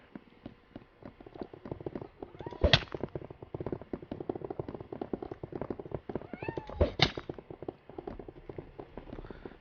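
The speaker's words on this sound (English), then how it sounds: "My cat thinks I'm talking to him." A cat meows a couple of times, a short cry and then a longer one, over constant clicking and clopping from a Minecraft survival game.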